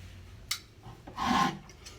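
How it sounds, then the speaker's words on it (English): A hand-stitched Auriou rasp scrapes across wood in a few short, rough strokes, one sharp scratch followed by a longer grinding pass, close and fairly quiet with no voices. "I found that the hand-stitched rasp, in some remarkable way, aggressively cut wood"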